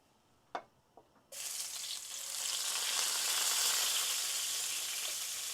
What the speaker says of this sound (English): So first I'm going to add this ginger.